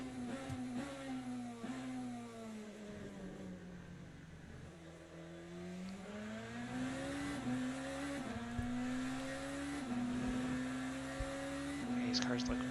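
A race car engine on a flying lap in Le Mans Ultimate, a steady loud drone that climbs in pitch through the gears with brief drops at each shift, under a commentator talking throughout.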